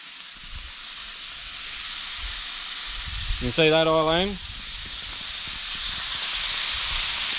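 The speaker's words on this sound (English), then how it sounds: "it's just enough to create a bit of steam." Water steams and sizzles on a hot plate cooking blueclaw yabbies outdoors at a remote outback billabong, a steady broad hiss that builds gradually, briefly interrupted by a short spoken question.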